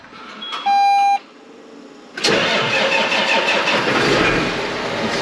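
Tractor on a farm, engine freshly rebuilt, starting up: a warning beep sounds, then after a pause the starter catches and the engine roars to a loud, steady idle, with no voices.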